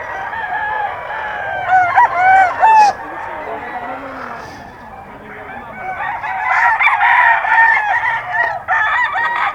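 Bull stag gamecocks crowing and clucking at close range among several fowl, with loud crows rising and falling and a person talking briefly amid the birds.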